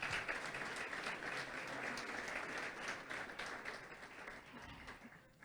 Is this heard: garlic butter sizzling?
no